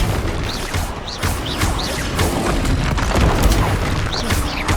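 Spells from Hogwarts Legacy, including Expelliarmus, Glacius and Flipendo, pound out dense, continuous booming impacts and crashes, loud and close, with whooshing bursts layered over a constant rumble.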